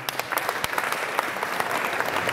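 Scattered audience members at an improv and body-language talk clap on request, a short burst of moderate applause with distinct individual claps popping through the steady patter.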